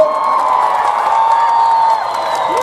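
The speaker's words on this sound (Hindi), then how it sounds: "तुम ताली बजाओ नीरज भाई के लिए सब लोग" A rally crowd at an outdoor stadium in Darjeeling claps and cheers loudly and continuously, a dense wash of applause and shouting that fades slightly near the end.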